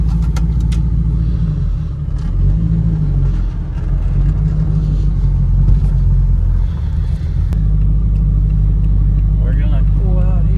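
LS V8-swapped Toyota Prius pulling out on the road for its first drive, a steady loud engine rumble throughout with some revving, under a voice talking.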